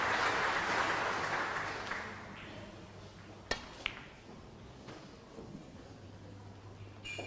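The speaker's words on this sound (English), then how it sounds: "Yes, you can hear the applause from the other tables," Applause from other tables at a women's snooker tournament, a broad clapping roar that fades after the first couple of seconds, leaving quieter hall ambience with a few sharp knocks.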